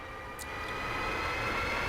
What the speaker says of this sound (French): Là, tu entends la PU de l'appareil pour lancer les moteurs.